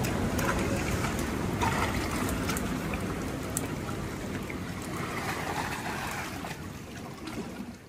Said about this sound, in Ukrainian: Як приємно, коли сидиш, і тобі на спину падають краплі дощу.